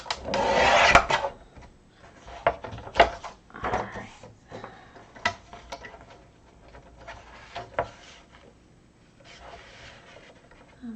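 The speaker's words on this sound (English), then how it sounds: "so just trimming this down to get 2 more sheets" Paper sheets being trimmed for an accordion journal, heard as a few rasping cuts and rubbing scrapes, loudest at the start and then fainter, intermittent and close, with brief quiet talk mixed in.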